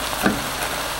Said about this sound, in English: I'm just kind of giving that a little stir and then letting it sit some.